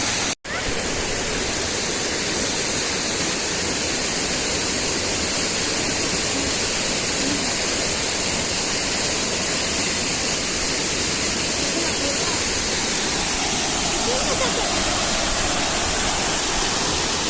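A powerful, continuous roar of a waterfall fills the scene, broadband and unbroken, with a brief cut near the start.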